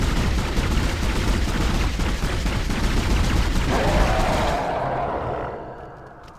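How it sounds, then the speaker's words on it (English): Gunfire in the sci-fi horror video game Dead Space, a dense continuous burst of loud shots and impacts with creature roars mixed in, then fading at the end. "Reload, reload, shoot it!"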